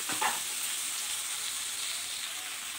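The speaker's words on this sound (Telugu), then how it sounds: "బాగా అంతా కలిసేటట్టు, పోపు కలిసేటట్టు బాగా అటు ఇటు తిప్పేసుకోండి" Oil sizzles steadily in a pan with onion tempering, a brief scraping stir at the start, then a constant hiss.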